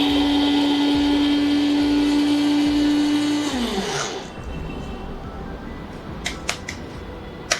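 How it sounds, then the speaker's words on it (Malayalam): A kitchen mixer grinder grinding cumin with coconut: a loud, close motor whine runs steadily, then winds down and stops, followed by a few small clinks and handling noises. "തേങ്ങ ചേർത്ത് കഴിഞ്ഞിട്ട് ഇത് അടച്ചിട്ട് ഒന്ന് ഗ്രൈൻഡ് ചെയ്യുക"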